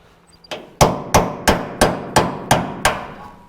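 A hammer striking a chisel through a rusted spot weld on the floor of a 1967 Kaiser Jeep M715, seven sharp metallic blows at a steady rhythm after a light tap, loud and close, no voices.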